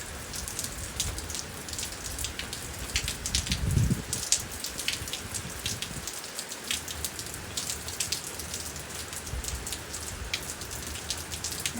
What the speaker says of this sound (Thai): คิดว่าคืนนี้นะฝนจะตกทั้งคืนแหละ